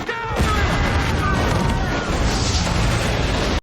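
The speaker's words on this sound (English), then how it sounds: "An explosion rocks the plane's exterior." An explosion on a plane's exterior in a TV drama, a sustained heavy rumbling blast with dense low boom and crackle, loud and close, with a voice talking over it.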